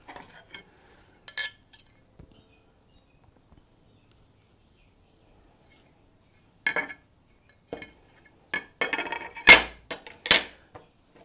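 Pieces of coloured art glass clink and tap against each other while being sorted and picked out for a wall-mounted air plant holder, with sparse sharp clinks separated by silence, growing busier near the end.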